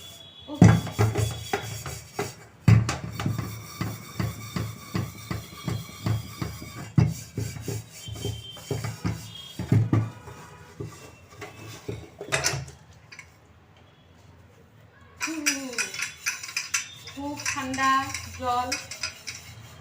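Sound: scrubbing a pressure cooker and pots

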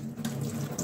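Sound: washing pumpkin leaves under running tap water

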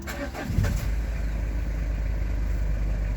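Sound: Citroen Jumpy 2005 engine starting

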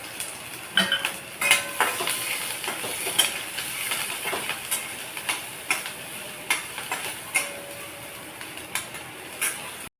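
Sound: green chillies frying in hot oil

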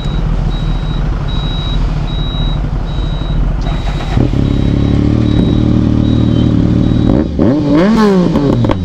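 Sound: Suzuki Hayabusa superbike riding

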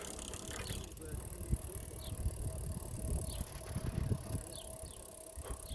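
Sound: bicycle wheel spinning

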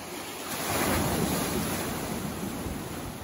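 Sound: waves sloshing on a sandbar

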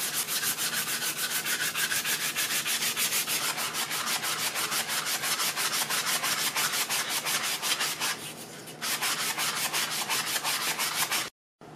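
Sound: hand sanding a wooden spoon handle with sandpaper

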